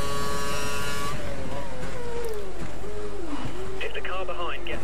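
A Formula 1 car's engine in the F1 2012 racing game whines loudly and steadily, its pitch rising and dropping through gear changes, with talking heard over it.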